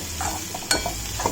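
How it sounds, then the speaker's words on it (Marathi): Banana flower vegetable being stirred and sautéed in a pan in a home kitchen, a soft sizzle under scraping spoon strokes, with one sharper clink of utensil against the pan midway. "हे चांगलं परतून घेऊया आता"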